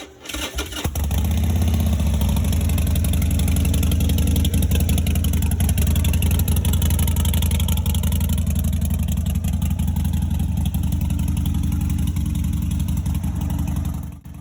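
A Harley-Davidson Roadster motorcycle with Vance & Hines pipes fires up and settles into a loud, steady, deep rumbling idle close by, its lumpy exhaust beat holding for over ten seconds.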